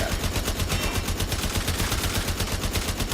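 Sustained full-auto fire from a Stradavar Prime or Tiberon Prime in a video game, a rapid, even stream of loud shots that runs unbroken for about three seconds, with no talking.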